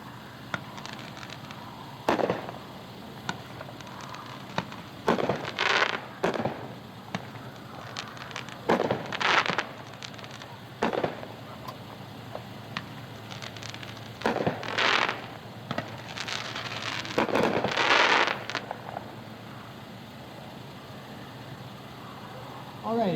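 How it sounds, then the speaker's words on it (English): A Hot Shot Honest Abe 9-shot 200-gram firework cake fires at a dealer demo show in a series of sharp, booming bursts spaced irregularly, with a steady engine-like hum in the background. "Next one on the list is a 9-shot 200-gram in our Patriotic series. This is Honest Abe by Hot Shot,"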